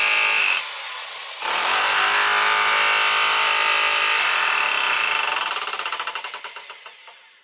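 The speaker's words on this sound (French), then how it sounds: "on essaie de casser ça et on voit" A Power Plus rotary hammer drill chiselling to break material roars loudly and steadily at close range, pausing briefly before resuming, then fading out in rapid pulsing hammer blows.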